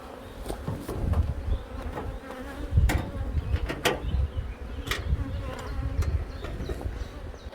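Honeybees buzz continuously around a two-queen hive split by a divider and excluder in Norway, a dense close drone with birds faintly in the background and no speech.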